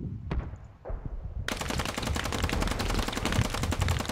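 Rapid automatic gunfire raking a logistics truck in the video game Squad, a dense unbroken burst of loud cracks after a couple of lone shots, with no voices over it.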